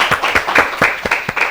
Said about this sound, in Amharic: ለኢምራን አጨብጭቡለት እስቲ